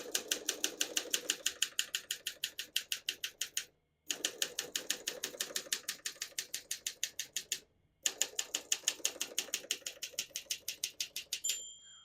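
Rapid, steady mechanical clacking of keys on a 1953 Olympia SM3 portable typewriter in quick runs, broken by two brief pauses, close and crisp.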